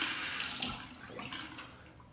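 A Shave Nation PVD TTO safety razor is rinsed under a running tap, a close, steady gush of water splashing into a sink that tapers slightly as it goes on.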